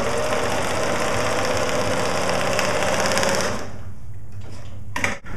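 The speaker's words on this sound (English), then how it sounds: "I'm just going to sew at full speed just to show what that looks like with this machine" Industrial sewing machine stitching two layers of 500 denier Cordura at full speed and longest stitch length, a rapid, dense mechanical whir that runs steadily for several seconds, then stops abruptly, followed by a couple of faint clicks.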